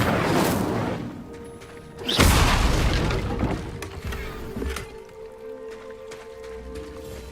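A burst of the Incendio fire spell in Hogwarts Legacy, a sudden loud whooshing blast with a booming low roar that swells in the middle, then fades into quieter game ambience and a steady tone.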